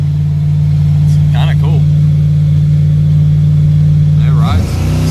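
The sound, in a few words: Ford Fairmont car driving and accelerating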